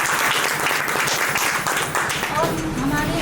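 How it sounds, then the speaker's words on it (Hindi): Loud, close applause from an audience at a franchise opening ceremony in Ayodhya, vigorous clapping throughout with a voice rising over it near the end. "मैम के लिए जो जोरदार ताली"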